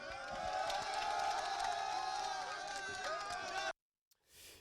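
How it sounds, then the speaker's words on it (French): Barracks workers cheer and shout for Patrice Talon as he departs, a dense crowd roar with whoops and voices that holds steady for several seconds before cutting off abruptly into near silence. "Patrice Talon repart avec les acclamations des ouvriers de la caserne"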